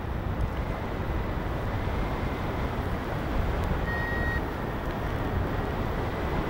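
A paragliding variometer over a city in Iskenderun, Hatay, gives one short, thin electronic beep for rising air, partly buried under a steady roar of wind noise.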